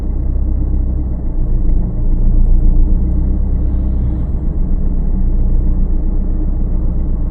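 A car engine idles with a steady, loud low rumble while a learner driver holds the car still on the clutch, the hum rising slightly midway and otherwise staying even.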